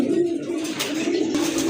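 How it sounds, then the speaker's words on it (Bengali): Pigeons kept on a farm coo softly and continuously for a short moment, with low, murmuring calls close by. "দেখেন কতটা কিউট কবুতরগুলো"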